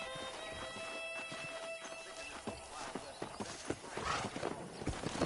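A pack of wild horses in the game Red Dead Redemption thunders past with a steady patter of hooves, a drawn-out whinny rising early on. The hoofbeats build louder and closer toward the end.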